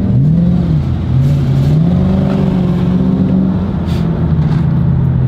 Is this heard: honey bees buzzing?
no